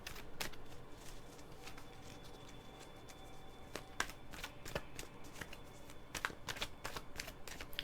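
Cards being shuffled for a card reading, a steady run of quiet riffling snaps and flicks that pick up toward the end, close and soft with no talking.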